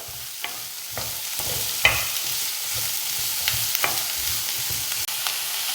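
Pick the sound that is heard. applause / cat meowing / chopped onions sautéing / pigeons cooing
chopped onions sautéing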